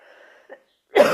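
A person coughs once sharply and close, after a stretch of soft murmuring breath and a brief throat sound, with the cough ringing out loudly at the end.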